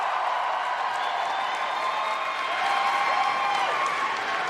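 Crowd at a Star Wars Celebration event clapping steadily throughout, a dense continuous wash of applause with music playing faintly underneath.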